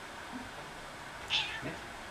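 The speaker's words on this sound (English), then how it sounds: "Look at this cat." A single short cat meow, fairly close, over quiet room background.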